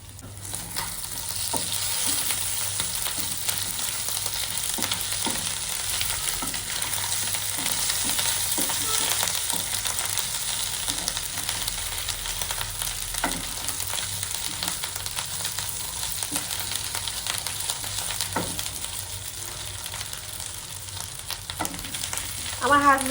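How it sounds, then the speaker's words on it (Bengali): Chicken fries in a pan in a home kitchen, a continuous close sizzle and crackle with repeated scraping and clinking of stirring throughout, no talk over it. "এখন ঢাকনাটা সরাই একটু নাড়াচাড়া করে দিব।"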